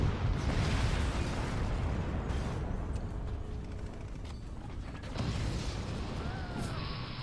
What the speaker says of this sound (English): Look at this clean shot coming in here. Kaboom.